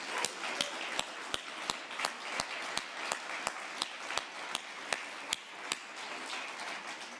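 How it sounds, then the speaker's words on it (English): Applause for panelists and a moderator at the close of a dialogue forum session in Yerevan, Armenia, heard as a steady wash of hand claps with sharper regular strikes standing out, fairly even throughout. "one final round of applause for our panelists and our moderator"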